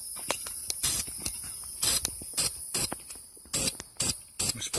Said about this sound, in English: I'm going to spray that flange.